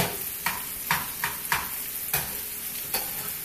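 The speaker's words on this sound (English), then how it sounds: "Now our sides are starting to become to sizzle. It's starting to sizzle." Sautéed mushrooms sizzling in a pan as side dishes cook, a soft steady frying hiss broken by regular stirring scrapes about every half second, close and fairly quiet.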